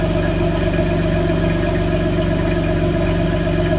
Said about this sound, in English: There's the exhaust note.